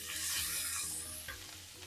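Chicken frying in a pan with onions and green chillies, a bright steady sizzle with stirring, close and continuous, no voices.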